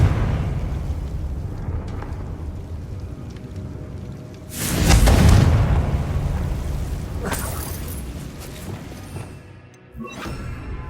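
A Confringo spell blast in Hogwarts Legacy: a loud, broad explosive burst midway that rumbles and decays over a couple of seconds, with softer crackling debris after, set against a quieter ambient backdrop.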